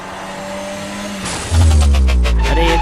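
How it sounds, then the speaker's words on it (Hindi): A car driving and braking in a cartoon horror-comedy scene: a steady engine drone that surges into a loud, close roar partway through, with squealing tone and rattling on top, with no talk. "शॉन बात करते हुए गाड़ी चला रहा था"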